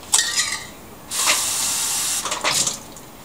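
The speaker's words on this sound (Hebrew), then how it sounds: "אני ממלא את הכוס הזאת במים, כוס וחצי של מים אני ממלא כאן." Water from a tap pours into a cup in a home kitchen while a cake is being made, giving a steady hissing gush in several short bursts with pauses between them.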